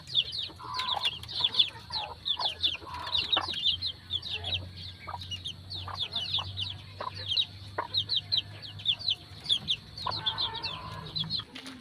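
At a game farm at feeding time, chicks and chickens cluck in a busy, continuous chorus. Frequent high chirps ride over lower clucks and a soft background hum.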